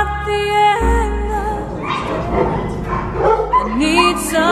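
Small puppies in cages at an animal shelter yip and bark with high whimpers, close and overlapping, under a layer of other noise.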